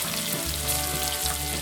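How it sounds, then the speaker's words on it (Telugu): Mustard seeds, cumin and dried chillies fry in hot oil for tempering, a dense, crackling sizzle heard up close for a brief moment, with no talk. "కొద్దిగా ఆవాలు, జీలకర్ర వేసి ఇది వేగిన తర్వాత అల్లం పచ్చిమిర్చి ముక్కలు"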